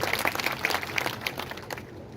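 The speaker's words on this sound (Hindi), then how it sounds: "एक बार मनासा की जनता के लिए ताली" Crowd applause at a public development event in Manasa, a dense patter of many hands clapping that fades slightly toward the end, with no talking over it.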